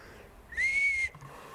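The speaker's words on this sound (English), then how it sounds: "Did you hear the whistle?" A single clear, sustained whistle rings out in the woods near a shrine, a steady high tone lasting about half a second against quiet background, followed by a faint rustle.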